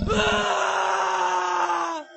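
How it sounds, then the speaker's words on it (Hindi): A man lets out a single long, loud, piercing scream that holds steady for about two seconds before cutting off. "तभी गोपी की चीखने की आवाज आती है।"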